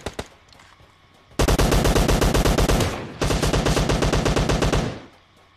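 Video game gunfire in two long automatic bursts of rapid, evenly spaced shots, loud and close, separated by a short pause, with a few isolated shots before.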